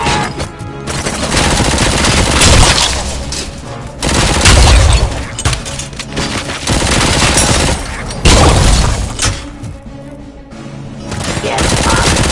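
Heavy gunfire in Robocop Rogue City comes in loud, sustained automatic bursts separated by short lulls, with booming impacts and voices shouting between the volleys.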